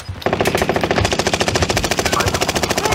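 Sustained rapid automatic gunfire from a first-person shooter game, a dense loud rattle of shots starting abruptly and running steadily for almost three seconds, with no speech over it.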